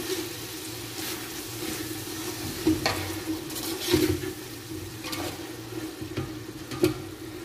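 Tomatoes, ginger and garlic sizzle in a pan for beef yakhni pulao, with occasional stirring scrapes and clinks, a steady low frying hiss throughout.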